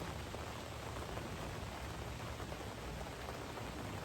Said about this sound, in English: And hear the rain.